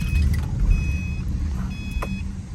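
A 2009 Subaru Forester SUV drives along with a steady low engine and road rumble, close and continuous, while thin high electronic beeps chime intermittently over it.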